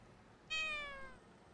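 A single drawn-out cat meow, close and clear, sliding slightly downward in pitch before fading, with no other sounds around it.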